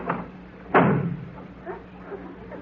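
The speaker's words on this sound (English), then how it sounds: "That door slam wasn't Robert." A door slams shut once with a loud, sharp thud in a vintage radio comedy broadcast, standing out clearly above low background noise, followed by quieter faint rustles.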